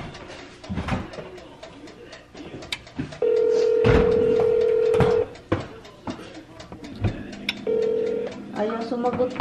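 A phone call rings out unanswered, with a steady ringback tone sounding in two long bursts amid room noise and a few scattered clicks and taps.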